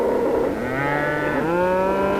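Cows moo in a long, loud, drawn-out low call that dips in pitch partway through, close by and with no voices over it.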